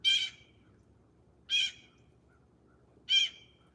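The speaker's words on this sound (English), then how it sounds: "bird's quite loud" A loud, harsh bird call rings out three times at steady intervals of about a second and a half, each a short raspy squawk with quiet between.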